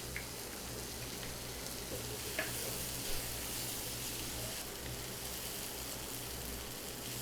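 Bread snack made from sliced white bread frying in a pan, giving a steady soft sizzle that runs alone throughout with a faint occasional tap of utensils.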